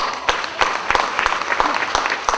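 Guests at a church wedding applauding for a sister who helped with the church decorations, steady crowd clapping with a few sharp louder claps standing out near the front, no talking over it.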